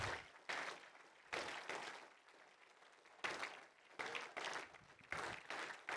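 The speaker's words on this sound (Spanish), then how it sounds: "Dale palmas al Señor" Church congregation claps for the Lord during a service, quiet and distant bursts of applause that start and stop repeatedly in uneven waves.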